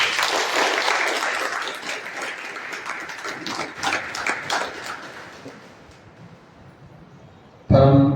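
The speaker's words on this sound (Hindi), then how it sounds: "बाबा के स्वागत के लिए सब लोग जोरदार ताली बजाएं" An assembled audience at a spiritual gathering in India claps loudly to welcome a revered guest, dense and strong at first, thinning and fading over several seconds before a sudden loud burst of sound at the end.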